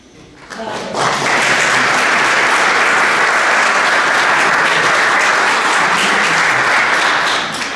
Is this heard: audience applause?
yes